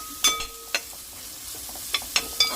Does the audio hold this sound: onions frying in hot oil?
yes